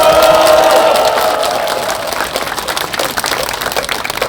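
Crowd applause for a priest at a protest mass inside a packed Catholic church in Gangwon-do, dense clapping and cheering that starts loud and tapers slightly over several seconds.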